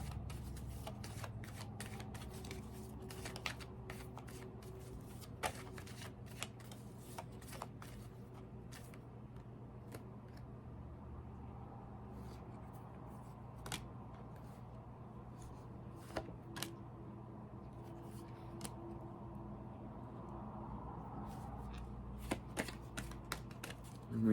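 Oracle cards being shuffled, soft scattered flicks and riffles against a steady low hum, sparse and fairly faint over a long stretch.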